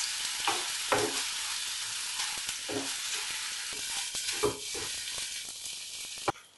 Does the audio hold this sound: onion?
yes